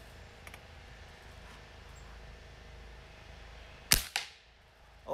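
Two sharp shots from a Diana Stormrider .22 caliber air rifle firing 14.35-grain pellets while plinking in a backyard, close and loud, the second following the first within a quarter second over a quiet outdoor background.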